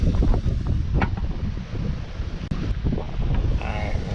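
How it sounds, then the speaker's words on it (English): Steady wind off Lake Michigan buffets the microphone in a low rumble, with faint lapping water and a few soft clicks underneath. "Lake Michigan's a little windy today"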